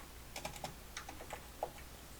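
Several quick keystrokes on a computer keyboard while entering text into a design program, light irregular clicks close up over a faint background hum, with no talking.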